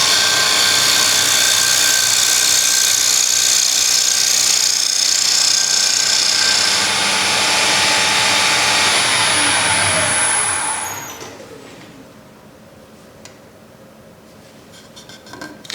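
A wood lathe spins a bowl blank while a tool cuts, a loud continuous whirring with a scraping edge that lasts about eleven seconds before winding down to a quiet hum.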